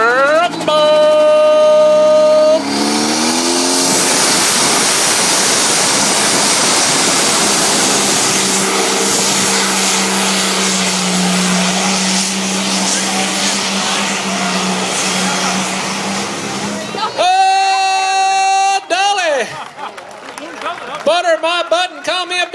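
A pulling tractor named Last Chance 2 roars at a tractor pull, its engine holding a loud, sustained howl for about fifteen seconds before cutting off. An announcer's voice and crowd noise follow at the end.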